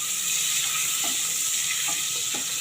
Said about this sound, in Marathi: बटर हे चांगलं विरघळून घेऊया आधी